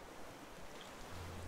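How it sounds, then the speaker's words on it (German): Storm waves in the survival game Raft, a dense, continuous wash of surf and wind noise at low level with no talk. "Der Sturm ist halt immer noch nicht vorbei."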